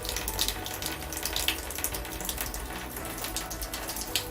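Continuous rushing and splashing of water pouring into an indoor koi pond tank, steady and close, with no talking.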